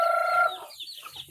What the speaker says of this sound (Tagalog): Ito yung mga manok, oh.